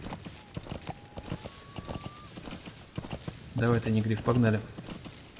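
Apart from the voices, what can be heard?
horse hooves trotting in video game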